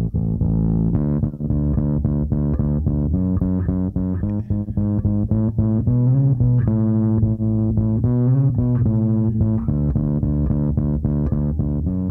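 A bass line runs through a Thermionic Culture Vulture distortion plugin, giving a gritty, saturated, harmonically rich tone. The notes are played in a steady rhythmic pattern, loud and upfront, with no voice.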